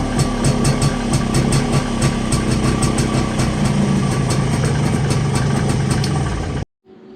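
An MZ TS125 motorcycle engine idles steadily after a start, a close, continuous two-stroke burble with a regular rhythm that holds for several seconds before cutting off abruptly near the end.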